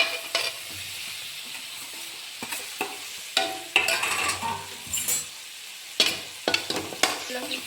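Dry potato sabzi with chillies, tomatoes, salt and coriander fries in a pan, a steady close sizzle broken by repeated scrapes and clinks of a spoon stirring against the metal.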